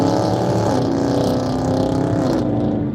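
A car engine revving outside, a loud, sustained drone that rises in pitch and then tapers off, with no talk over it.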